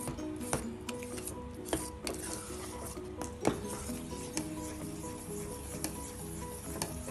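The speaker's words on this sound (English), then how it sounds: "Stir it well." A spoon scrapes and stirs a thick bread pudding mixture in a pan over a low flame, with steady rubbing strokes and occasional light knocks against the metal, over a faint continuous background.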